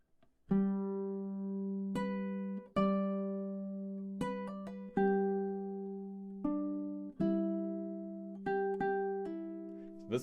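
Solo ukulele plays the next line of Amazing Grace in a drone-note arrangement, about eight plucked notes ringing over a sustained open-string drone, close and clear with no talking.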